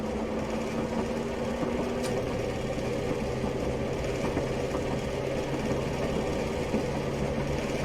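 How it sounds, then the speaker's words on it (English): The diesel engine of a Class 101 multiple unit in Train Simulator Classic runs at high revs, around 1900 RPM, giving a steady droning hum with a constant pitch that shifts once early on, with no voices. "this is quite a high revving engine in this"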